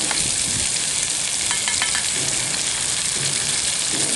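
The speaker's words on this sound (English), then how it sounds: "Cooking in there is kidneys and smoked streaky bacon." Kidneys and smoked streaky bacon fry in a pan set straight on an open fire, giving a close, steady, crackling sizzle that runs unbroken the whole time, with no talking.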